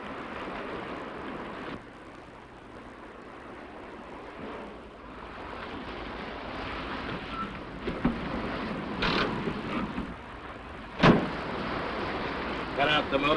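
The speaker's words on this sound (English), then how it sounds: "Cut out the motor and the lights." A car motor idles and hums steadily at low level with faint rattles and a few sharp knocks, while people talk over it in a vintage radio drama.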